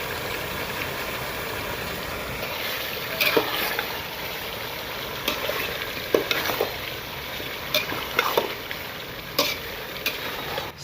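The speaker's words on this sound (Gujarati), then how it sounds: "શાક પાકતું હોય ત્યારે આમ તવીથાથી તળીએ ફેરવતું રહેવાનું" A spatula scrapes and knocks against a pan of potato curry for twenty people in scattered strokes over a low, constant sizzle of cooking.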